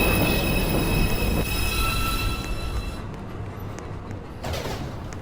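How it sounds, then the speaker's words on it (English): A New York City Express 2 subway train pulls into a station during evening rush hour, its wheels squealing in high sustained tones over a loud rumble that eases as the train slows. "Express 2 train. 2 Richter Street. Approaching the station."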